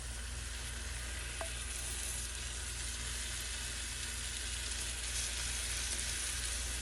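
French toast soaked in a milk mixture fries steadily in a pan, a dense, even sizzle that holds alone for several seconds with a couple of faint clicks.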